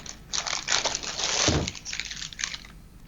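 Craft paper for scrapbooking crinkles and rustles close by in uneven bursts, with one louder crumpling handful in the middle, no voices.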